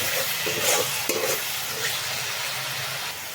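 Spices and a fish egg mixture frying in a pan with chicken masala and cumin, a close, steady loud sizzle with brief stirring scrapes through it.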